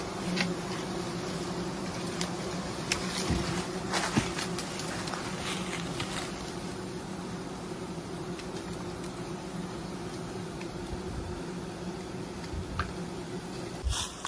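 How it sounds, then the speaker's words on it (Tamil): Bees buzzing steadily around stacked wooden hive boxes outdoors, a dense continuous drone with occasional louder passes near the listener and no talking. "ஸோ கீழெல்லாம் தேனி இருக்கு"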